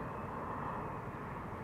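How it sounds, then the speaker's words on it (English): A KLM airliner on approach to Amsterdam Schiphol from the south gives off a steady, distant engine drone, faint and continuous over a short stretch. "KLM flight 1265? It is now approaching, it's now approaching from the south."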